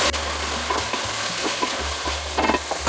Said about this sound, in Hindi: अब मैं इसमें हरी मिर्च डाल दूँगी, मिक्स कर लूँगी हरी मिर्च।